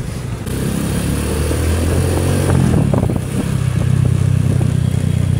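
A Rusi Sigma 250 motorcycle engine runs close by, a loud steady idle with a brief rise and clatter midway before settling back into an even rumble.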